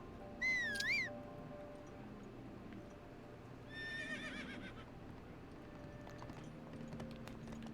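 A horse in the video game Breath of the Wild whinnies twice, a bright rising neigh followed later by a second shorter one, over a steady low game ambience with light hoofbeat clopping.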